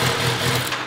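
A superbike engine rumbles through its exhaust, giving a loud, close, steady throaty burble with slight fluctuations over a brief moment, no voices.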